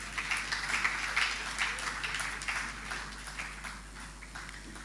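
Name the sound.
audience applauding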